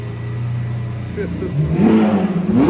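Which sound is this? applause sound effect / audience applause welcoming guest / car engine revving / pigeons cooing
car engine revving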